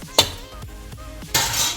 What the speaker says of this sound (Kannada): ಈಗ ಕುಕ್ಕರ್ ಕ್ಯಾಪ್ ಕ್ಲೋಸ್ ಮಾಡ್ತೀನಿ